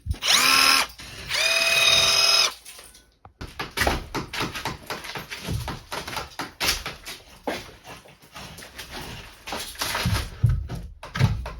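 A power drill drives screws into wooden floor beams during a house renovation, with two loud, whining bursts up close followed by a long run of clattering knocks and handling noise.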